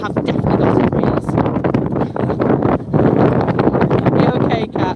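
Gusty wind at an outdoor airshow buffets the microphone with rough, uneven rumbling, while a voice talks faintly underneath.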